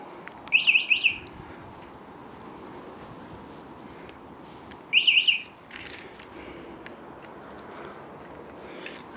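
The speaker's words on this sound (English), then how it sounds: "It's got an alarm on it though." Anti-theft alarm on a DYU A1F Pro folding e-bike gives two short bursts of rapid high chirping beeps, the first near the start and the second about four seconds later, over a quiet outdoor background.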